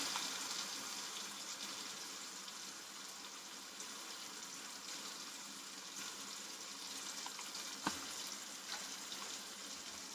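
Tomatoes with salt, turmeric, coriander and chilli powder fry in refined oil, giving a faint, steady hiss in the pan with one brief clatter near the end.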